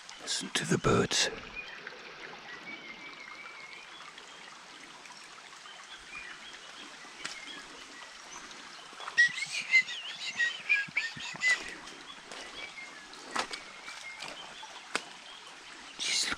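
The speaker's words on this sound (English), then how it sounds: "Listen to the birds." Birds chirp and whistle in scattered bursts by a mountain stream, with a steady trickle of flowing water underneath and a brief louder rustle near the start.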